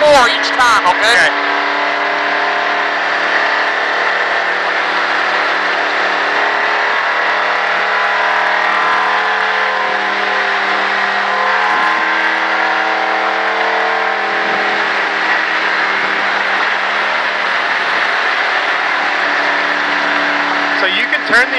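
A stock car accelerates around the Texas Motor Speedway track, its engine holding a loud, steady drone that rises and settles with speed, heard close from inside the car while voices talk over it.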